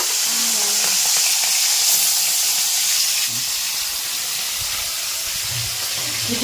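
Prawns frying in a pan, a loud, continuous sizzle and hiss close by with faint stirring, almost no voices.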